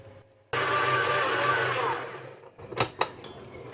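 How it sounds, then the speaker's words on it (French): Semolina and flour bread dough made with lukewarm water is kneaded, heard as a loud, steady motorised whir that runs for about two seconds, then fades and stops, followed by a few sharp clatters. "je vais pétrir pendant 5 à 7 minutes"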